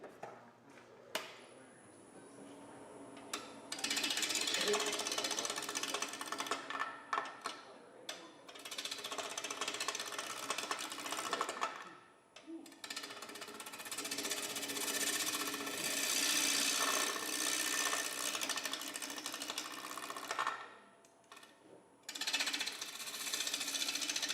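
Wood lathe running on its high-speed range at a woodturners' club meeting, a steady rattling, chattering drone in several long stretches with brief drops between, moderately loud and with no talking.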